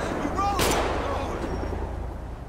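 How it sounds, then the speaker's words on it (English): Gunfire in GTA 5 amid a busy game scene, with a dense, continuous rumble of shooting throughout and one brighter crack near the start, with voices and other game sounds mixed in. "That's too much shooting going on, man."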